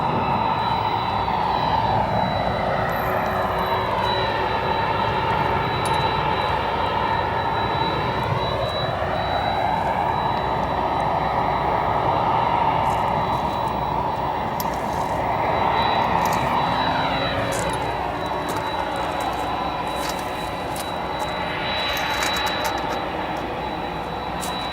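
Jet airliners at O'Hare Airport make a constant loud engine roar throughout, with slowly rising and falling whines as aircraft move nearby, heard from an outdoor spotting position.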